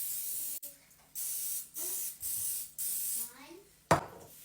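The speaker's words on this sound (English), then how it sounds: "I'm going to spray my muffin pans" Several short bursts of aerosol cooking spray hissing close by onto muffin pans, separated by brief pauses, ending with a sharp clatter.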